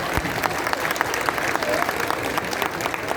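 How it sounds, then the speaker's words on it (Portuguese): Applause from a crowd at a gaúcho fandango dance graduation, celebrating a dancing couple, with crisp individual claps standing out over a continuous wash and voices murmuring underneath. "Os aplausos para esse casal querido também"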